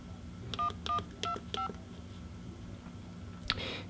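Four evenly spaced keypad tones sound as a lock code is entered on an LG VX5400 flip phone, clear and close, followed by a brief click and a soft hiss.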